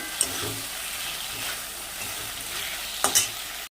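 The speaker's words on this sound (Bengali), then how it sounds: "এবার ভালো করে কষাবো" Spice paste for a fish curry with radish is stir-fried in a pan, a soft steady sizzle with occasional scraping strokes and a couple of louder clanks near the end, no talking.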